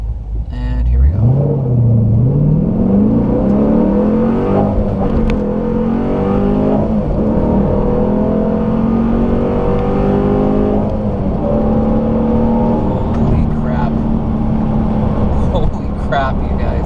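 Car fitted with a new cam accelerating hard, its engine climbing in pitch through rising revs, then holding a loud, rough, throaty rumble up close, with someone talking over it.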